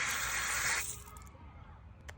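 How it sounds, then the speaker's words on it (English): Water gushes from a stiff faucet, a loud hissing stream that cuts off within a second, leaving faint dripping and quiet room sound. "Can you help me get some water for my dog? The faucet's too tight."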